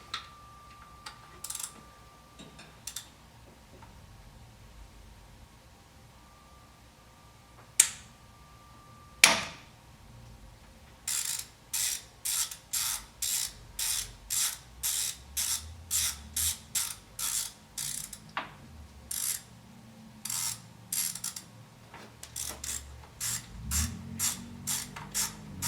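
Repeated ratchet clicks from a wrench turning a bolt on the VANOS unit of a BMW E46 daily driver. Short bursts of crisp ticking, near and fairly quiet, follow a few sharp metallic knocks, with no talking.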